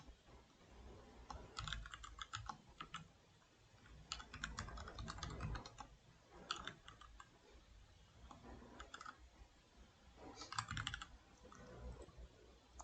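Fast, uneven keystrokes on a computer keyboard fill the stretch in clustered bursts with short pauses, close and fairly quiet, while a user name is entered in a Flutter chat app during testing; nobody speaks.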